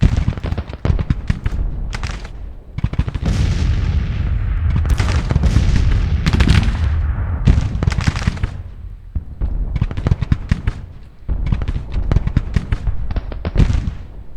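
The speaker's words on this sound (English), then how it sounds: "If their artillery's just gonna wail away." Artillery fire from a Civil War battle in a video game set at Shiloh: dense, overlapping booms and blasts rolling almost without pause, loud and continuous for the whole stretch, with brief gaps between clusters.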